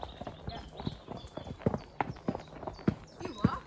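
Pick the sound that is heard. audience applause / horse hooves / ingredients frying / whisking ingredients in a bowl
horse hooves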